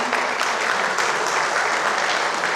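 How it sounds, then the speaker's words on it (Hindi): Loud, continuous applause fills an award ceremony hall in Kurukshetra, many hands clapping in a thick, even wash that does not let up, with no voices heard. "ये ताली इनके लिए बहुत कम है।"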